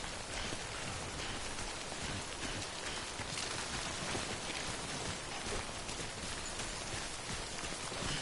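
Steady, dense rain of the timefall downpour in the video game Death Stranding, a loud continuous hiss of drops on surfaces with no breaks, heard alone without voices.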